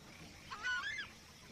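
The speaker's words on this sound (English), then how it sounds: "Look at this southern screamer with its chicks." A southern screamer near its chicks gives a single short honking call, faint and somewhat distant, rising and falling over quiet outdoor ambience.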